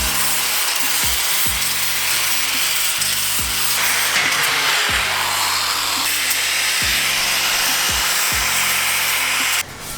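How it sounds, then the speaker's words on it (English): Sanding and scuffing mini bike rims before painting, a steady abrasive rasp in repeated back-and-forth strokes, close and fairly loud with no talk. "we're just sanding down these rims here"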